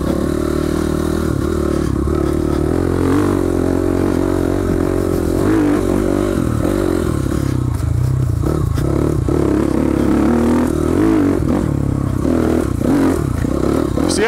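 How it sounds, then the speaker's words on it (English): A dirt bike rides over small trail obstacles, its engine droning loud and close the whole way, with rising and falling revs and clattering jolts as the wheels bump across. "See how I'm popping the wheel over those little..."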